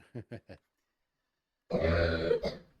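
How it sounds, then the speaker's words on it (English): Three short, sharp coughs from a child close by, followed after a pause by a burst of loud, strained throat noise like a harsh cough or grunt. "Hopefully you didn't hear my son's cough."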